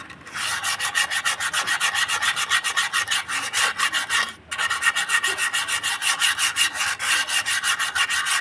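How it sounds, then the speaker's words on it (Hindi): Sandpaper rubs rust off a Hero Pleasure scooter brake shoe in fast, steady back-and-forth strokes, a loud close scratchy rasp with one brief pause midway; no voices. "ऐसे घिसने पूरा सिर्फ पेपर से, तो पूरा जो जंग इसमें लगा हुआ है पूरा साफ हो जाएगा"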